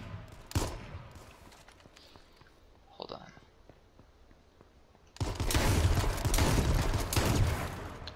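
Video game gunfire in H1Z1: a few isolated sharp shots and clicks early, then a sustained loud burst of rapid fire that fills the last few seconds.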